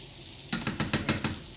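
A Beyond Meat plant-based burger patty browns in a pan, with a steady sizzle and a rhythmic series of scraping, knocking strokes from a spatula, close and clear.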